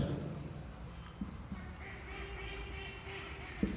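Chalk or marker writing on a board during a share-capital accounting lesson, heard as soft scratchy strokes with a few small taps, fairly quiet and steady, with no talk over it.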